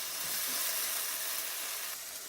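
Butter melts into masala in a hot pan with a loud, continuous hissing sizzle that stays even and close throughout.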